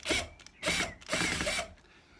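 Three short bursts of whirring from a power screwdriver backing stainless steel screws out of a top-hung UPVC window hinge, close and fairly loud, with brief gaps between, no talking.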